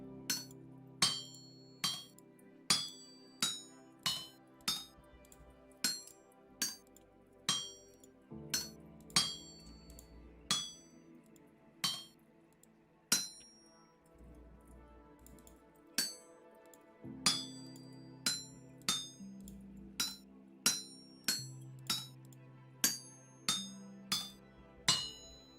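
Hammering metal plate on an anvil in Vintage Story, a steady series of bright metallic clinks repeating about once a second over quiet background music, with short pauses between runs.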